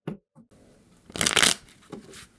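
Tarot cards are shuffled close up, starting with a few soft taps and then a brief loud riffle burst, followed by a quieter card tap.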